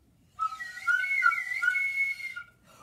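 A slide whistle is blown once, holding a long, bright, wavering tone for about two seconds that wobbles up and down in pitch before cutting off sharply, with no talking.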